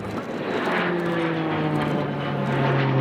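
A Tucano propeller training aircraft flies at an RAF Cosford air show, a steady droning engine with slowly shifting pitch, moderately distant, continuous over crowd and wind noise with no talk.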